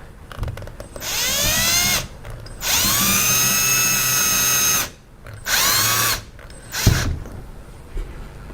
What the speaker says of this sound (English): I haven't been putting the whole 4 screws in, I've just sort of been doing 2